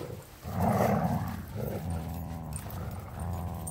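A dog growls low and steady during a game of tug, a rumbling snarl that swells and then continues at a slightly lower level, close and fairly quiet, with no talking.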